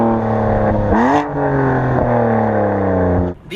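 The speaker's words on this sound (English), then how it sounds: "We've got Dinan cans and a Remus straight pipe mid pipe with active exhaust." A BMW M4 with a 7-speed DCT, Dinan cans and a Remus straight-pipe mid-pipe active exhaust revs hard and close, its engine note climbing and shifting with a brief flare before dropping away at the end.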